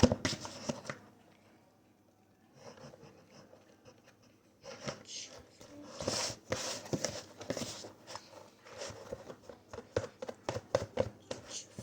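Sourdough dough stretched and folded by hand in a bowl: soft slaps, squelches and rubbing in irregular bursts, close and moderately loud, with a quieter stretch early on.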